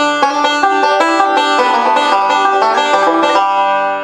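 Five-string banjo picking a quick forward roll lick that resolves to a D ending, a bright run of rapid plucked notes played alone, close and loud, for about four seconds.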